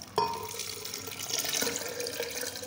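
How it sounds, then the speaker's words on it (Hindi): Two glasses of water pour into a blender holding phalsa berries for a fresh fruit juice, a close, continuous splashing and gurgling that starts abruptly and runs steadily for a few seconds. "तो इसमें ऐड करेंगे दो ग्लास पानी के।"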